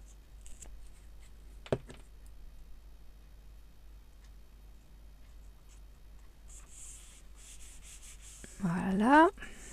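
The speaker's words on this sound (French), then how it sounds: "Je vais partir avec mon gros bâton de colle." A large glue stick rubs on paper in short dry scraping strokes, quiet and close, with a louder burst of rubbing and handling near the end.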